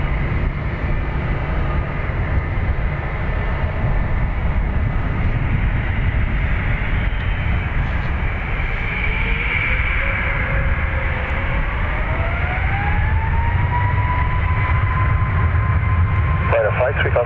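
A jet airliner takes off from runway 10 right at Dublin Airport, its engines a steady, loud roar with a rising whine building over many seconds, heard from outside at a distance.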